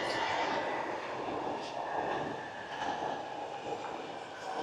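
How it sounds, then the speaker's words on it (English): Train running near Disneyland Paris in Val d'Europe, a broad steady rushing roar heard from a moderate distance, holding fairly even for several seconds. "Train."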